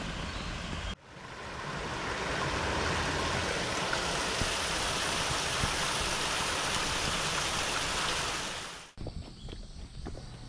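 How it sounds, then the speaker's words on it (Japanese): A steady rushing roar of a waterfall in a Japanese garden at Hamamatsu Castle park, loud and continuous, heard up close for several seconds before cutting away to quieter outdoor sound. "滝が流れているようです。"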